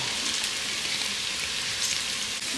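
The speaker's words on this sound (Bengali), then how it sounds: "এরপরে পেঁয়াজ দিয়ে দিলাম, এবার দিচ্ছি মুগের ডাল" Onion and mung dal fry together in a Nutripot for vegetable khichdi, a soft, even hiss of sizzling that holds steady from start to finish without voices.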